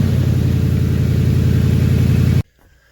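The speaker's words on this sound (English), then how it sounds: "Alright, got the truck fired up." A pickup truck engine runs loud and steady in freezing cold weather, a close, even idle rumble that cuts off abruptly near the end, with no talking.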